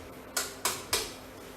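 Three sharp clinks of a utensil against a pan while stirring a creamy carbonara sauce with pepper, evenly spaced over a quiet background.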